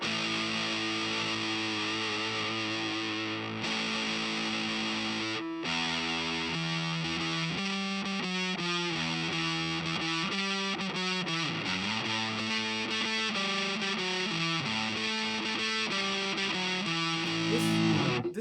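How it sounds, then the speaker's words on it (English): Vox Starstream guitar played through its distortion effect: a steady, saturated, loud electric guitar riff with changing chords, running continuously with a brief dropout near the middle and swelling slightly at the end. "So now next would be the Distortion."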